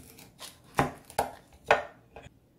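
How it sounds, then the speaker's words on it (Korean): A knife slices a long carrot into thin strips for gimbap, giving four crisp, close chops on a cutting board at an uneven pace, with no one talking. "이것도 역시 김밥용 단무지 굵기로 썰어 줄 거예요"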